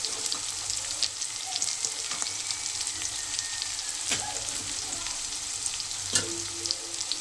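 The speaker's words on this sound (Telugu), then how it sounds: "తర్వాత సన్నగా తరిగిన అల్లం ముక్కలు ఫ్రెండ్స్, వీటిని వేసుకొని ఫ్రై చేసుకోవాలి." Finely chopped ginger fries in oil in a pan for an egg fry, giving a steady close crackling sizzle with occasional sharper pops and light stirring scrapes, no voices.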